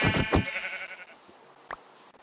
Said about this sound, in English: I need 2 more white sheep.